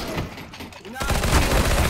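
Rapid bursts of gunfire from the video game CS:GO crack out loudly, a dense fusillade of overlapping shots that intensifies after the first second, with brief speech mixed in.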